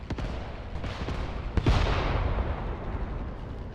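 Artillery guns fire in the WWII strategy game Mius Front, heavy booms with one sharp blast in the middle, echoing rumble and distant shots trailing off.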